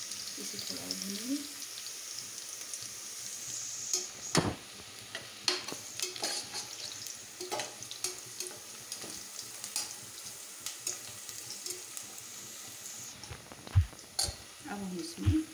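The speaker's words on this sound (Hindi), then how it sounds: "अब ये प्याज जो है हमारी भुनी हुई आ रही है, थोड़ी सी थोड़ा सा और रह गई है, इसे थोड़ा भूनेंगे।" Chopped onions frying in a pan for a soyabean and paneer pulao give a steady, moderate sizzling hiss, broken by sharp spatula taps and scrapes against the pan, with brief voice-like sounds near the start and end.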